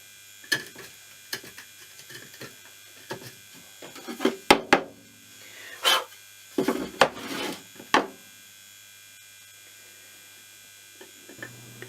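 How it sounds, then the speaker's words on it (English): A chisel cuts a hexagonal recess in plywood to seat a 12mm nut, giving a run of sharp close taps and scraping strikes in irregular bursts, with quiet pauses and a faint hum between them. "Just chiselling out a hexagonal hole for it to fit in."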